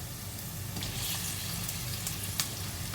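Tomatoes dropped into softened frying onions for channa masala, a continuous moderate sizzle with light stirring scrapes and a brief clink near the end.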